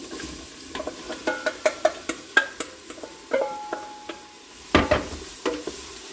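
Onions are stirred into a roux the colour of milk chocolate in a pot for Cajun chicken and sausage gumbo, giving a series of crisp spoon taps and scrapes over a soft, low sizzle, with no talking.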